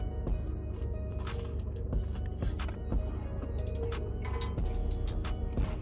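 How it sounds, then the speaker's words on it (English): A steady, faint static hiss comes from an air conditioner vent close to the camera. Scattered light clicks sit over the hiss. "if you guys hear a little static noise in the background, that's my AC"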